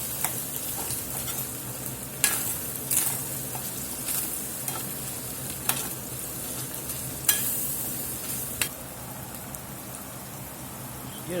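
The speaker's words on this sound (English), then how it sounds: "let them kind of fry with this burger a few minutes" Ground beef frying with seasonings in a hot pan, a steady close sizzle broken by occasional scraping stirs and clicks of a utensil, with faint talk in the background.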